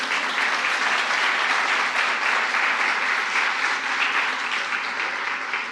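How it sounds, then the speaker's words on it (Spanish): A church congregation applauds during a Sunday sermon, steady loud clapping from many hands filling the room for several seconds without a break. "¿Cuántos dan un aplauso al Señor?"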